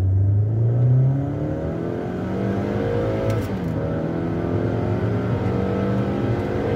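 A 2011 Chevrolet Captiva Sport SUV with a 2.4-litre 185 hp engine and six-speed automatic accelerates from low speed. A loud, close engine rises in pitch through several gear changes, with no talking.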